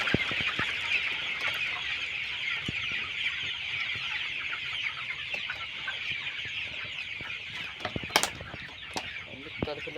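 Chickens clucking at close range on a farm, a continuous busy chorus of hens with occasional sharper calls and brief wing flaps, a voice faintly present at times.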